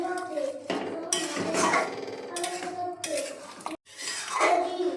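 A spoon scrapes and knocks against a pot as curry is stirred with fried spice mix, making irregular clattering and scraping sounds while a voice talks nearby.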